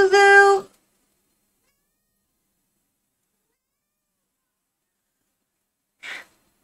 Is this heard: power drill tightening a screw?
no